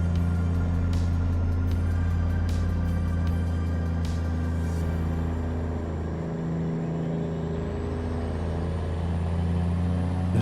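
A 1970s Peterbilt 359 truck with a CAT 3408 V8 engine swap idles loudly, a steady deep diesel drone with strong low hum and a faint whine rising late, continuous and close.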